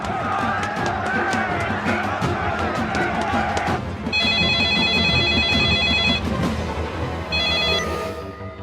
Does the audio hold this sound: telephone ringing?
yes